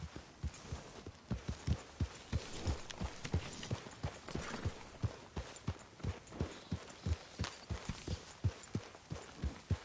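Horse hooves clip-clopping in a video game, a steady run of evenly spaced, fairly close thuds continuing for about ten seconds with a faint low hum behind them.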